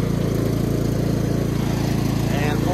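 A CubCadet XT1 lawn tractor engine runs steadily with the mower blades engaged, a loud, continuous close-up drone with an even pulsing rhythm throughout.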